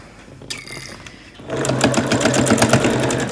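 A sewing machine runs quilt-as-you-go fabric scraps, starting with a short whir and then a steady, rapid, even stitching rhythm, close and loud.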